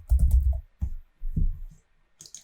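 Quick bursts of typing on a computer keyboard, close and fairly loud, come in three clusters of rapid key clicks separated by short pauses, with a few lighter taps at the end and no talking.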